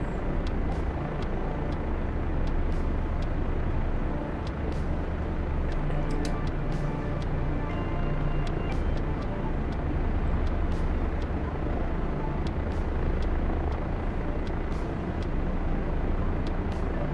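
A Chinook helicopter in a video game, heard as a loud, continuous low rotor and engine roar that fills the whole stretch, with sharp game clicks and effects scattered on top.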